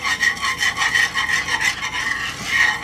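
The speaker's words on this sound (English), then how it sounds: "I'll just kind of whisk that in" Half and half is whisked into a garlic lemon basil cream sauce over medium heat, giving a steady, rapid rhythmic scraping of a whisk in the pan that continues throughout without pause.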